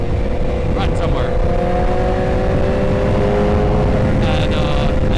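A stretched BMW S1000RR motorcycle holds a steady engine drone while riding, under a constant rush of wind noise. A few faint higher sounds briefly break through the roar.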